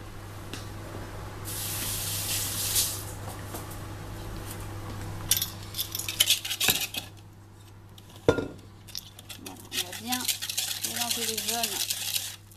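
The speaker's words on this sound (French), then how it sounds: "là-dedans on va ajouter les 60 g de sucre qu'on va bien mélanger" A whisk or spoon clatters against a bowl while 60 g of sugar is mixed into egg yolks, with steady scraping and a few sharp knocks, then softer tapping near the end.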